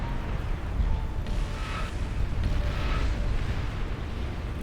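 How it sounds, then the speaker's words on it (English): Legion long-range plasma artillery starfall barrage in the Beyond All Reason strategy game, with a dense rumbling wash of distant booms and layered impact explosions rolling continuously under a large battle. "Pink has a starfall. The Legion long-range plasma artillery."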